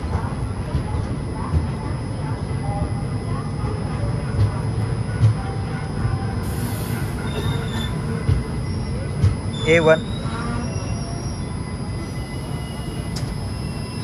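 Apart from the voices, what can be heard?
Tirupati to Guntur express train slowing into station, wheels squealing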